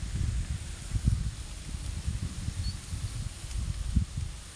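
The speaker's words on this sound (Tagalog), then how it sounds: "Maririnig mo lang dito hangin." Strong wind gusts across open countryside with a light drizzle, a steady rough roar of low rumbling buffets and airy hiss that carries on without a break and with no voices.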